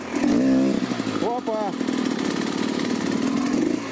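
A ZM Tracer 300 2T two-stroke motorcycle engine buzzes loudly and revs in sharp bursts while ridden on the rear wheel, close by, with a brief voice exclamation between revs.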